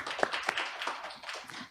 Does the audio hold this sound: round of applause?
yes